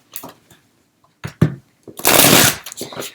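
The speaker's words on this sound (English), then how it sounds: "I'm just going to shuffle up the tarot deck for a little bit" A tarot card deck is riffled and shuffled in quick bursts, with short papery flicks building to a loud, dense rush of cards near the middle before tapering into lighter shuffling.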